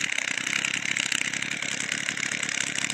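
A STIHL FS 55 brushcutter engine idles steadily at close range, a continuous buzzing two-stroke drone with no revving, running alone throughout.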